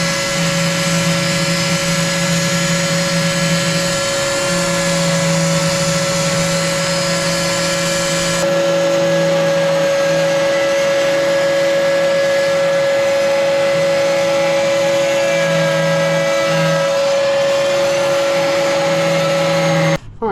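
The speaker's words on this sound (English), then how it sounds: "Whenever we use the multi-tool, we're going to run the shop vac, whether we're cutting wood or cutting the grout out" A multi-tool cuts grout out around a broken tile while a shop vac runs alongside, giving a loud, steady, close drone with a high buzzing whine that shifts partway through and stops abruptly at the end; no talking.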